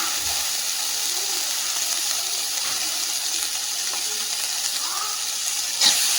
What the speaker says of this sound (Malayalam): ഇതിലേക്ക് നമ്മൾ തേങ്ങ തിരുമ്മിയത് ചേർത്ത് കൊടുക്കണം